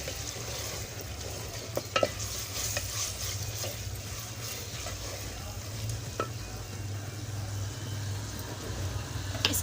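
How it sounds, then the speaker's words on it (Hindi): Ginger garlic paste sizzles and fries with browned onions in a pan, a steady close hiss broken by scattered scraping stirs, with no talking. "1 चम्मच भर के ना इसमें लहसुन अदरक का पेस्ट डाल देते हैं"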